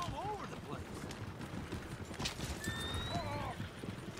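Coach horses in Red Dead Redemption 2 clip-clopping steadily with sharp whinnies rising over the hoofbeats, mixed with creaking mechanical rattles and a brief gunshot-like crack, and someone talking over parts.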